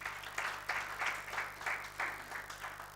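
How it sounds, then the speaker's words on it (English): An audience at an executive dialogue event claps together in a steady, even round of applause, heard faint and from a distance with regular bursts pulsing through. "let's give the DVC another round of applause"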